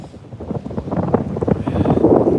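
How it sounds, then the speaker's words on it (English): Gusty wind buffeting the microphone in an open lake cove while out bass fishing from a boat, a loud rumbling roar that builds and stays strong, with faint water and boat noise underneath. "this cove is not hiding me from the wind at all"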